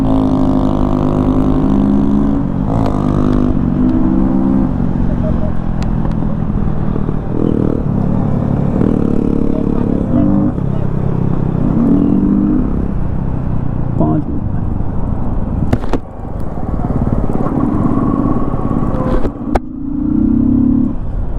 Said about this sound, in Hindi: Pure sound open air filter की MT-15 की।